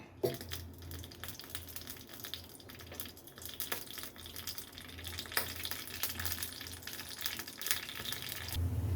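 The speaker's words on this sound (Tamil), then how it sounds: "கடுகும் ஜீரகம் பொரிஞ்சிருச்சு." Mustard seeds and cumin splutter in hot oil, giving a close, continuous crackling sizzle dotted with small pops that carries on steadily without any talk.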